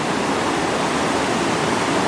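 Floodwater after a night of heavy rain rushes as a new creek through a meadow, a steady, dense broadband roar like a stream or small waterfall, constant and close, with no voices.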